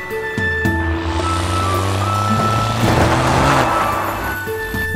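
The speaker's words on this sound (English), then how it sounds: "The purple monster truck." A monster truck engine revs loudly and steadily with a rising, gritty roar; shifting tonal whines slide up and down across the passage, with no talking.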